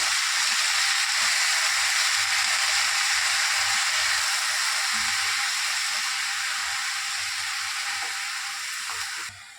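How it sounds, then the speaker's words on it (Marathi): A leafy vegetable, karade greens, sizzling steadily in a hot pan as it is stirred and mixed in, with a continuous bright frying hiss and soft low scraping and stirring knocks throughout. "आता ह्याच्यात भाजी घालून घेऊया। भाजीला चांगलं मिक्स करून घेऊया सगळं हलवून।"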